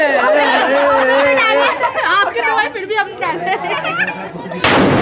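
Crowd chatter and excited voices fill most of the stretch before a single sharp, loud firecracker bang bursts out near the end from a burning Ravan effigy at a Ravan Dahan celebration.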